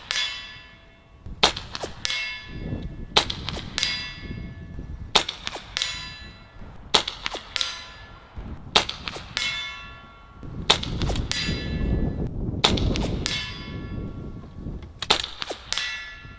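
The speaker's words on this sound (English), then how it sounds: "I want to do one last group on that blue steel torso down there" Several rifle shots from a Barra 250Z air rifle ring off a blue steel torso target downrange, each a sharp, bright metallic clang with a long ringing decay, spaced a second or two apart in an uneven series against quiet outdoor background.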